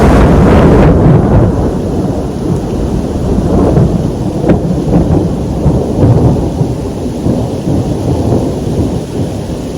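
Thunder from a fast-moving lightning storm on Black Elk Peak in South Dakota rolls in a loud, long rumble over steady rain and wind buffeting the microphone, with no speech.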